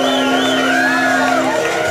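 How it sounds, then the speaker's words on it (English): A dense crowd cheering and whooping for a contestant at a bull riding event, a steady loud roar with shouted voices rising and falling throughout. "Let that crowd cheer for you."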